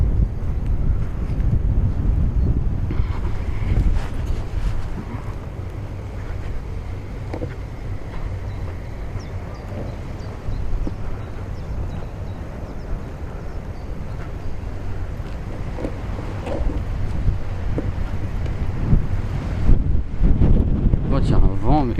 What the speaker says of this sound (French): Il y a un vent mais comme d'hab quoi